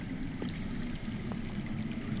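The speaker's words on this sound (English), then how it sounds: "I hear water. From underground." Underground water flows steadily in a PS4 video game, a soft continuous trickling wash with a faint low rumble beneath, quiet and unbroken throughout.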